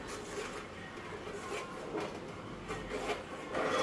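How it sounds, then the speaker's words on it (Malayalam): A ladle stirs milk into payasam in a pot, making a continuous soft scraping and rubbing with faint clinks, heard up close with no talk. "ഒരു കയ്യിലുപയോഗിച്ച് ഇവയെല്ലാം നന്നായിട്ടൊന്ന് മിക്സ് ആവുന്ന രീതിയിൽ ഞാനിവിടെ ഒന്ന് ഇളക്കി കൊടുക്കുന്നുണ്ട്."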